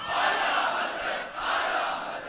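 A large crowd at a religious gathering loudly chants the slogan "Ishq o Muhabbat" in unison, the phrase rising and repeating twice in a steady rhythm.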